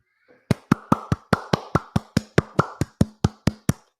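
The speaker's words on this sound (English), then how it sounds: "for those of you that don't know what that was a clap" A rapid run of sharp, evenly spaced hand claps, about sixteen crisp close hits in a steady rhythm with no talking over them.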